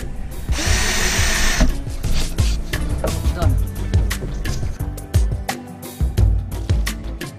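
A power drill bores holes during modifications to a Roadtrek Zion camper van, whirring loudly in continuous bursts with clattering and knocks between runs.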